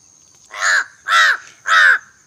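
Crows give three loud, evenly spaced harsh caws close by, each one drawn out and separated by brief quiet, with a faint thin tone behind them.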